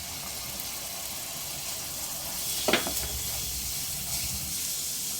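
Ground cumin paste hits hot oil with browned onions, making a steady frying hiss with a brief sharper sizzling burst partway through, for a Bengali pabda fish curry.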